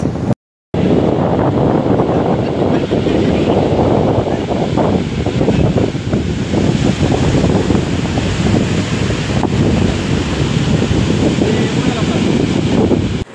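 Strong wind and rolling surf at Devbag beach, a steady loud roar with heavy wind buffeting the microphone, a short cut near the start, and a crowd of beachgoers around.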